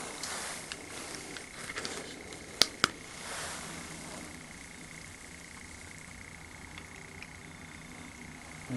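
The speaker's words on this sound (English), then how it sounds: "The clicking sounds me holding the recorder." Two sharp clicks from handling an audio recorder stand out over a quiet outdoor hiss in a cemetery at night, with a few fainter taps scattered around them.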